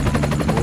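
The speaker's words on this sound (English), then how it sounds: "You see guys, helicopter." Toy helicopter making a steady whirring rotor drone, continuous and fairly loud over a short stretch.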